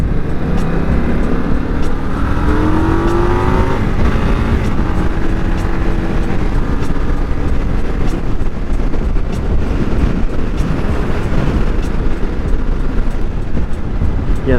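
A new Indian Scout motorcycle cruises on a freeway in sixth gear at about 60 mph. Its engine hums low and steady under constant heavy wind rush, and there is no talk.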